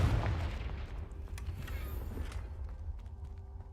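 A Confringo blasting spell goes off in Hogwarts Legacy, a loud low-heavy burst at the start that decays into a sustained rumbling crackle with faint game ambience, no voices over it.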